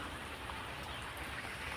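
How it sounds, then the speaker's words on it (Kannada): Steady rain falling outdoors near a house with banana plants, a faint, continuous hiss of drops heard from a distance without any talking. "ಮಳೆ ಅಂತೂ ಕಂಟಿನ್ಯೂ ಇದೆ ಬಿಟ್ಟೇ ಇಲ್ಲ"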